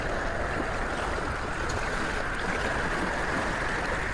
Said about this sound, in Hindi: ये बड़ी लहरें और हवाएं, नहीं कर पा रहा हूँ